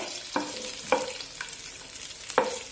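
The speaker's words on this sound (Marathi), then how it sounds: "मिरचीचे असे बारीक तुकडे करूनच तेलामध्ये टाकायचे" Finely chopped green chilies hitting hot oil alongside ginger and garlic for matar cutlets, giving a steady soft sizzle broken by four sharp scraping spoon strokes, close and fairly quiet with no talk.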